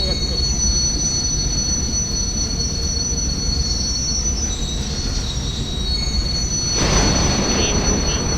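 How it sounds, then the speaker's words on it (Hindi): In a 3D Indian train video game, train wheels squeal steadily as the train brakes into a station, a loud sustained high-pitched screech over a heavy rumbling rail roar, rising toward the end. "और तभी स्टेशन आया और ट्रेन अचानक से रुकने लग गई।"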